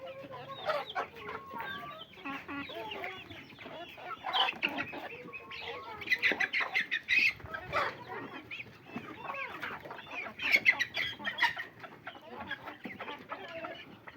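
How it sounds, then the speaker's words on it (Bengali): Native hens and a rooster on a small farm cluck and chatter near and far, with overlapping calls and squawks for about fourteen seconds and a few louder bursts. "একটা মোরগ এবং একটা মুরগি। আর বাকিগুলো হচ্ছে আমার দেশি মুরগি।"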